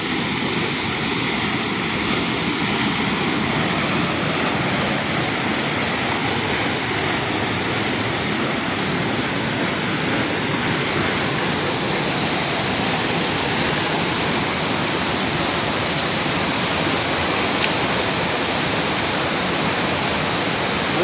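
A mountain river in Rolpa rushes in a steady, dense roar while people wade through it hunting Asala fish. The flowing water is loud and unbroken throughout, with no voices.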